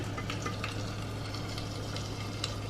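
Chicken meatballs land in a hot pan to brown for albondigas soup, giving a steady, close sizzle and fry hiss with a few brief crackling pops and no talking.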